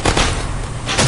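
A single sharp gunshot bursts out in the Happy Wheels video game, loud and close, with a second crack following about a second later, no talking over it.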